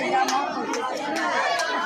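Dense crowd chatter fills a packed, standing-room-only train bound for the Kumbh Mela at Prayagraj, a steady overlapping murmur of many voices with occasional sharper clatters.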